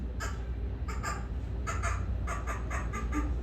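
A human voice imitates a crow's mating call during a stand-up comedy showcase, giving a series of harsh, caw-like squawks in short clusters against a noisy room background.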